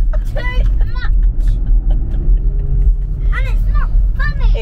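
A car on a long road drive gives a steady low engine and road rumble throughout, with people talking intermittently over it inside the cabin.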